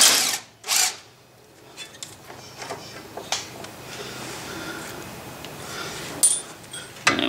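A power tool undoes brake caliper bolts during CV joint work, giving short bursts of whirring and rattling with quieter clanks and handling noises between them.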